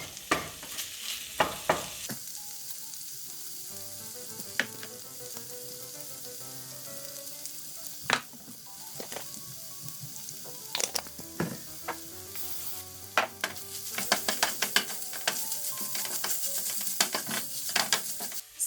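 Seasoned vegetarian food sizzles steadily on a grill, a constant close crackle broken by scattered clinks and scrapes of utensils, with no talking.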